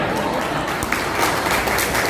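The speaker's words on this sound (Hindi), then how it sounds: "मैं तालियां बजा रहा हूँ।" A crowd of people applauds at a gathering, a dense, steady wash of clapping hands that stays loud and even throughout.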